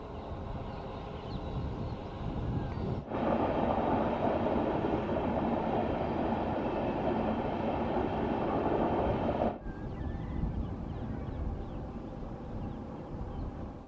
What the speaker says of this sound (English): Kaveri Express made its way with its shiny new 2026 built LHB coaches and a Royapuram WP7 leading the way